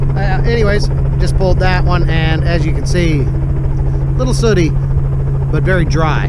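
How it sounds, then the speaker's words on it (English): A nearby helicopter idles with a steady, loud engine drone and rotor hum that runs throughout, under someone speaking close to the microphone. "I don't think that helicopter's going to take off anytime soon, so pardon the noise."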